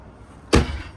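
A deep drawer in a 2016 Forest River Rpod 176 camper slides shut with one close, solid thud, followed by a brief rattle that fades within half a second.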